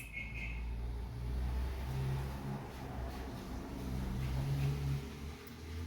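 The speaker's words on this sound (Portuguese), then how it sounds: "Eu detesto quando passa carro assim, gente." A car passes by outside, a steady engine and road rumble that swells and fades over several seconds, heard from indoors without talk.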